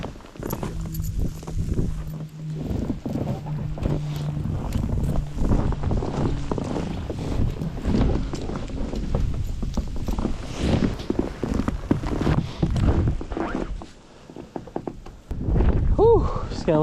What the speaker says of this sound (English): just got a little windy out